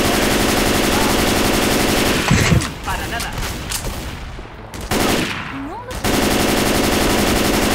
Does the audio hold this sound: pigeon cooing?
no